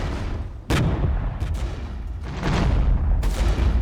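Tank guns firing in the Regiments wargame: several heavy booming shots, the first sharp and sudden, then more blasts spaced about a second apart over a constant low rumble of battle.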